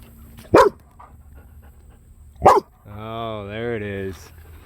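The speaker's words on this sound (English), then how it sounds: "what are you barking at?" A dog barks twice in sharp, loud bursts a couple of seconds apart, then lets out a drawn-out whining howl, close by with no talk over it.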